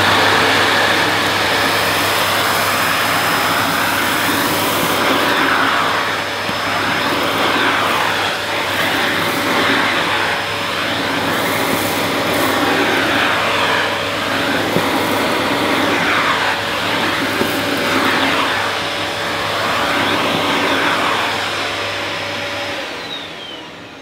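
A Rowenta Tonixo vacuum cleaner running over carpet edges and into corners, a loud, continuous motor whine with a steady hum that holds for over twenty seconds, then cuts off at the end; no one speaks.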